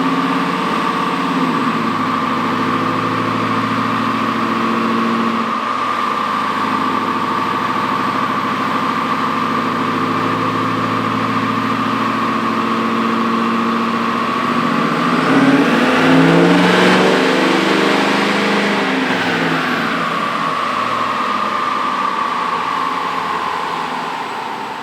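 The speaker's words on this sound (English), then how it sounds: "I'm going to start at 1800, and I'm going to go all the way to 2800 to see if I can load the truck a little harder" A 2021 Powerstroke diesel truck on a dyno, engine loud and close, holding a steady drone that climbs as it revs through a hard pull, peaks around the middle, then eases back down.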